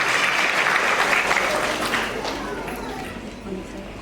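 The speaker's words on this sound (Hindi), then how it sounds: "तालियों से स्वागत करें।" Applause from an audience fills a school primary section annual day, dense clapping running steadily from start to end and easing slightly toward the close, with no voices over it.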